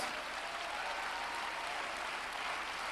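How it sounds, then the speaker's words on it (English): Continuous applause from a congregation at a worship gathering, many hands clapping in a thick, uniform patter that holds steady throughout. "Come on, clap your hands."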